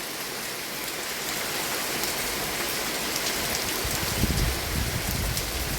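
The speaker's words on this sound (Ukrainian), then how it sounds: "Дощ іде і такий добренький." Steady rain falls during a hot July summer day, a dense, even hiss holding throughout with a slightly heavier, louder patch of drops toward the end, with no talking.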